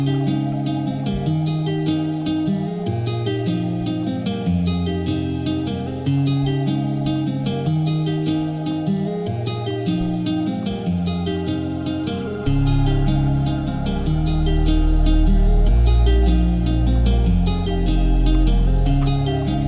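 Intro of an electronic remix built on an ambient synth pad with layered melodic synth patterns, steady and full, thickening with a deeper low end in the second half.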